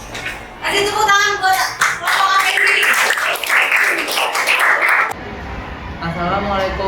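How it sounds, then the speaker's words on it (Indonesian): A classroom claps for a student group coming forward to present, with quick scattered clapping from pupils mixed with children's chatter. It breaks off abruptly, leaving voices. "Kasih tepuk tangan buat kelompok Afendi"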